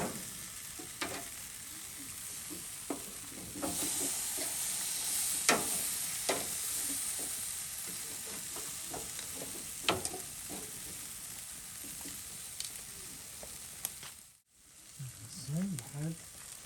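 Tandoori chicken sizzling on a grill after turning, a low steady frying hiss broken by scattered crackles and pops, with brief voices and a short near-silent gap toward the end.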